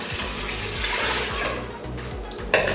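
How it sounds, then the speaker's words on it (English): Filtered water poured into an Instant Pot pressure cooker, a close, continuous splashing stream with a brief louder gush near the end. "I'm putting in 4 cups of water,"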